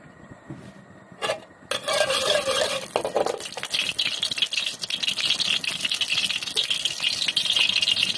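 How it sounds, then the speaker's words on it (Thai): Crispy pork is stir-fried with chili, long beans, basil and shallots at a street food stall. A spatula scrapes and rattles against the pan in a continuous, busy rhythm over a steady hiss. "ไปค่ะผัดกัน"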